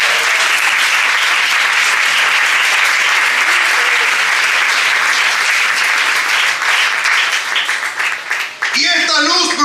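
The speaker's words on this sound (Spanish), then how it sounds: "Aplauda al Señor esta mañana." Church congregation clapping steadily and loudly during a Sunday morning service, dense sustained applause filling the room, with a voice speaking over it near the end.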